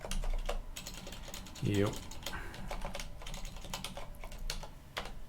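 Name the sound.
typing on a computer keyboard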